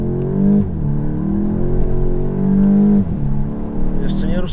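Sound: VW Golf 8 GTI accelerating

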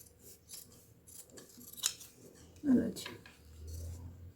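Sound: scissors cutting fabric at dress neckline

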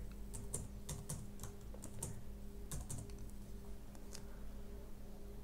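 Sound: typing on a computer keyboard while entering input

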